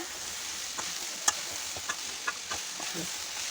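Long beans palya with grated coconut being mixed in a pan, a soft continuous sizzle broken by a few scattered clicks and scrapes of the spoon, close by, with no talking.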